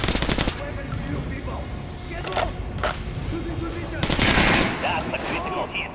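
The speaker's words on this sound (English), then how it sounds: "Now shoot the armored dummy." Gunfire in Metro Last Light aimed at an armored training dummy: a brief rapid burst at the start, then a few separated sharp shots with metallic impacts, moderately loud against a quiet room tone.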